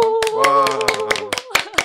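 Hands clap in a sharp, uneven series of about nine claps over a couple of seconds, close and distinct, with a person talking underneath.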